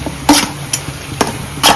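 Pre-fried potatoes go into chicken frying in hot oil, heard as four sharp, close scrapes and clatters over a faint sizzle.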